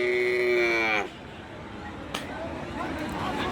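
A single loud moo comes from a bullock at a cattle market, one of a lot of Hariana-type bullocks brought across the Indian border. It lasts about a second, then gives way to quieter market background noise with a faint knock.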